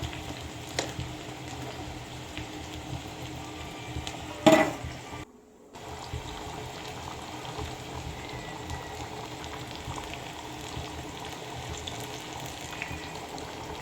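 A Kerala mango curry made with coconut milk simmers gently in a pan with a steady, soft bubbling hiss that runs evenly throughout, broken by one brief clink and a short dip.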